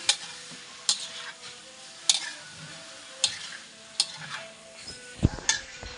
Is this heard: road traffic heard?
no